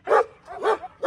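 Dogs bark excitedly in a backyard, giving three quick, close, loud barks with faint whines between them.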